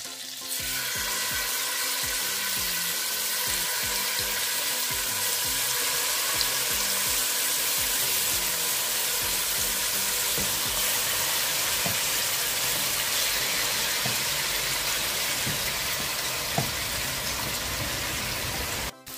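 Marinated chicken for butter chicken fries in a pan with melted butter and oil, giving a loud, steady, dense sizzle that runs unbroken for nearly twenty seconds with no voices.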